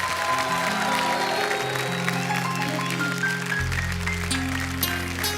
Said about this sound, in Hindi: प्लीज एक बार अर्चना जी के लिए जोरदार तालियां